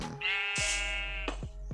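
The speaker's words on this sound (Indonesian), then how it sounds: "Kambing domba maksud saya." A single sheep in the Minecraft video game gives a clear, close bleat lasting over a second, followed by short clicks and taps.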